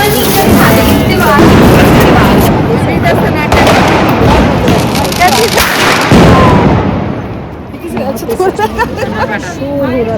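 Dense crackling bangs and booms from Diwali fireworks and firecrackers go off continuously under a loud hubbub of voices, thinning out near the end.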